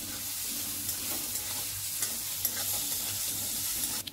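Chopped onion sautéing on a low flame, a soft, steady sizzle with faint stirring scrapes running throughout, close and moderately quiet with no voices.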